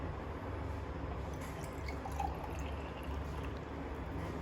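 Distilled water pours steadily into an oxygen regulator's humidifier bottle, a continuous close trickle and splash with no talking.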